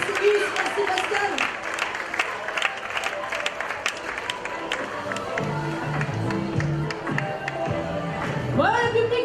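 An audience applauds at a theatre gala in Saint-Malo, scattered clapping spread through the room with voices talking and calling out over it.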